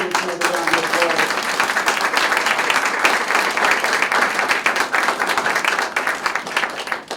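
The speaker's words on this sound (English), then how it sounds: "Let's give another round of applause." Sustained applause from a political gathering of Queens County Democrats honoring Congressman Greg Meeks, dense steady clapping from a large crowd filling the whole stretch, with a brief voice audible at the start.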